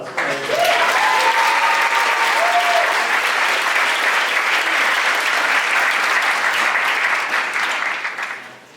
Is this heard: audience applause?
yes